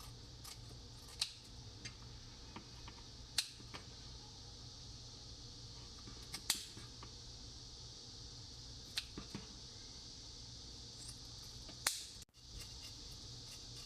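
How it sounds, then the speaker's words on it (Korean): Kitchen scissors snip the fins off yellow croaker fish, giving a handful of sharp, isolated clicks spaced a few seconds apart over a quiet background with a steady low hum and no talk. "가위로 지느러미를 손질합니다."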